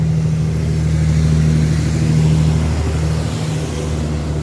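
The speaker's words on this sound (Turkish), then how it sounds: "ay yine bir kamyon geçiyor" A truck's engine rumbles steadily and loudly close by, a continuous low drone as it passes.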